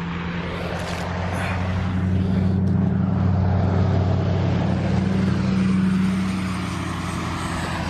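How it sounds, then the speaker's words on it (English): A big truck on a snowy road rumbles past during a snowstorm, a loud, low engine drone that swells over several seconds and then gradually eases off. "Oh, man, it's a big truck coming."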